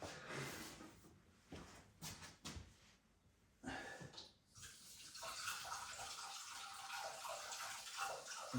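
Tap water runs as something is rinsed off, starting in faint intermittent splashes and then settling into a steady, quiet stream.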